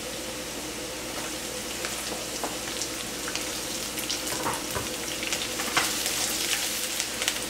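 Shallots sizzling in hot oil in a pan, just after garlic, for Indonesian mushroom chicken noodles: a steady, close, bright crackle with scattered pops throughout, no talking.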